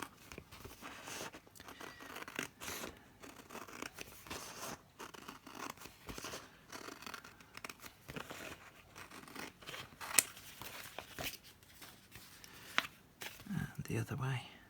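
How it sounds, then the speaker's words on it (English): Scissors snipping and scraping through paper in short irregular cuts, close up, with handling rustles throughout and talk mixed in. "Let me cut it with scissors first of all"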